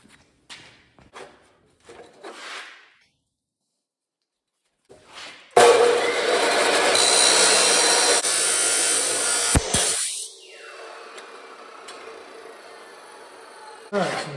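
Power saw cutting through a wooden board during a shop build of a rolling paint cabinet: a loud, sustained burst of cutting noise lasting several seconds that stops abruptly, framed by quieter handling and footstep sounds before and after.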